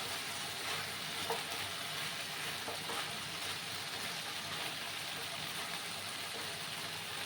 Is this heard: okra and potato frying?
yes